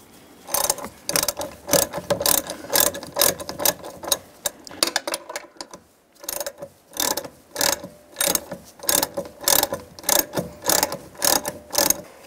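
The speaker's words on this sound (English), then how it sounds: "And then tighten the 10 millimeter down as well." A ratchet tightens 10 mm bolts on the door hinge of a 2007-13 Chevy Avalanche, giving rapid bursts of close clicking in repeated strokes with short pauses between them.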